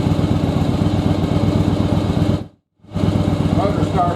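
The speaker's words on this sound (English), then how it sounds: "The motor's starting to warm up." A second-generation Yamaha Virago motorcycle engine idles steadily as it warms up during air/fuel adjustment, a close, continuous rumble that cuts out briefly near the middle and then resumes, with some speech faintly present.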